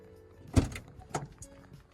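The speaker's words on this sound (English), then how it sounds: "I'll open this door for you." A door on a Sprinter camper van is opened up close, with a solid latch clunk followed by a second mechanical thud and a faint click, no talking.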